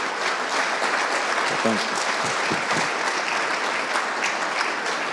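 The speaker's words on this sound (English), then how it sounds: "How about a round of applause again for Governor Eric Holcomb?" An audience applauds for Governor Eric Holcomb at an indoor event, dense sustained clapping from a sizable crowd, steady throughout with a few louder individual claps standing out.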